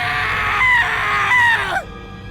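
A person lets out a sustained, loud, high-pitched scream lasting nearly two seconds, wavering in pitch before cutting off abruptly into a faint low background hum.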